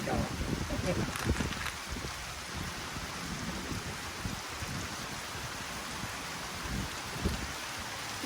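Steady rain falls through the scene with a continuous hiss, in an outdoor setting during a thunderstorm where people sit eating boiled cockles, their talk audible over the downpour.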